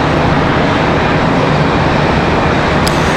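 Airliner arriving from Little Rock at Charlotte Douglas airport gives a loud, steady, close engine roar with broad rumbling noise throughout and no voices.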